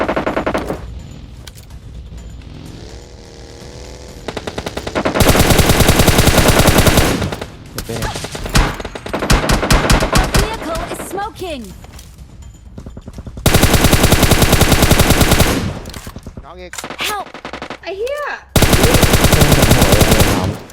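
Gunfire from the Honey Badger rifle in the video game PUBG Mobile, several loud sustained bursts of rapid automatic fire separated by quieter stretches with faint game sounds and brief tones.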